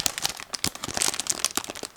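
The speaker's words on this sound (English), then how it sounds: "it's a sealed plastic bag, so I need to cut through" A sealed plastic bag holding a 1/35 scale model tram kit is cut open, giving a close run of crisp crinkles and rustles with sharp snips and tears over two seconds.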